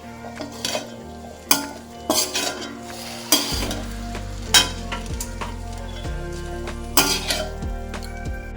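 Chilli parotta is stirred and fried in a pan, with a constant sizzle under repeated clanks and scrapes of a metal utensil against the pan, loud and close.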